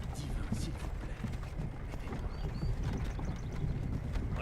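Horse hooves clip-clop steadily in Skyrim, a rhythmic trotting patter under a dense game soundscape of wind and ambient noise, moderately close and fairly loud.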